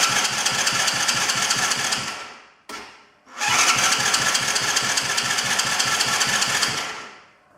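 A quad bike engine cranks and catches, running roughly near and loud for about two seconds, cuts out briefly, then fires again and runs steadily before fading down at the end.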